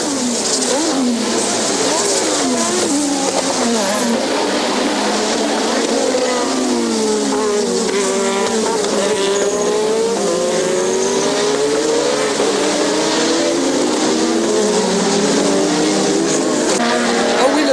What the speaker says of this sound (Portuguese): Enquanto isso, Fab, na outra Benetton, um carro com motor BMW que andava muito, brigava com Prost.